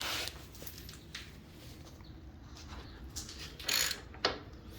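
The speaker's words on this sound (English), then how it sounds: "Then we got to go ahead and remove the cross bolt." A ratchet is worked while a cross bolt comes off a Harley-Davidson Sportster motor mount, with quick metallic clicking bursts and light tool clatter standing out over a low, even background hum, close and without speech.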